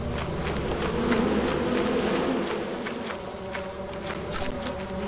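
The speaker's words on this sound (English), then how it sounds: "Come here, bees. Yeah, come over here, bees." Bees in the video game Lethal Company give a continuous droning buzz that fills the scene, with footsteps tapping over it and no speech.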